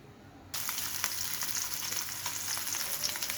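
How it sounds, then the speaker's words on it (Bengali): Pieces of rohu fish in hot oil in a pan burst into a loud, continuous sizzle after a moment of near quiet, with sharp crackles and pops of spattering oil throughout. "এখন মাছটা একটু ভাজা হয়ে গেছে আমি সুন্দর করে বাবা খুবই তাও তেল ছিটে আসছে"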